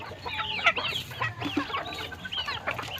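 Several farm chickens keep up a near, busy run of clucks and short squawks that overlap one another for a few seconds, with no voices.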